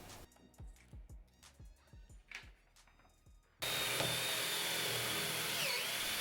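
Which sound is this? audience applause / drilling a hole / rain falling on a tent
drilling a hole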